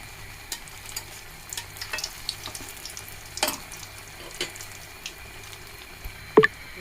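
A potato snack frying in hot oil gives a low bubbling sizzle with scattered pops and crackles, plus a sharp clatter near the end, no talk.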